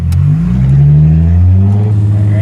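Mercedes SLK320 with a nitrous tune accelerating hard, engine pitch climbing steadily in a loud, close revving roar over a couple of seconds.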